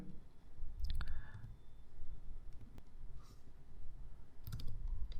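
Mouse clicks in accounting software while choosing vouchers, a few sharp isolated clicks close to the microphone over a steady low room hum, with a quiet pause between bursts.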